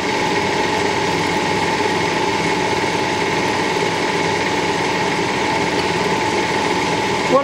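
Lathe cutting a thread at ten thousand, a steady mechanical hum and whine running evenly throughout with constant loudness and a small knock at the very end.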